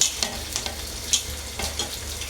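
Mixed vegetables — beans, carrot, green chilli, onion, cabbage and capsicum — stir-frying in a pan on high heat, with a steady close sizzle and repeated scraping strokes of a spatula, no voices.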